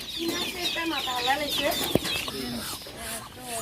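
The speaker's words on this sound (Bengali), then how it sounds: "সব দেশি মুরগি হ্যাঁ দেশি মুরগির বাচ্চা সবগুলা" A flock of native (desi) chickens clucking close by, with high thin peeping from chicks woven through, plus a single sharp tap partway through.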